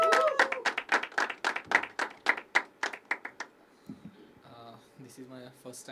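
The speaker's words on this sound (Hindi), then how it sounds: "अजिंक्य के लिए जोरदार तालियां।" A small audience at a poetry open mic gives a round of distinct, rhythmic hand claps, about twenty crisp claps close by, which fade into a voice speaking afterwards.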